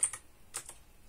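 Quiet typing on a computer keyboard while entering a Linux terminal command, four soft key clicks in two quick pairs, close but faint.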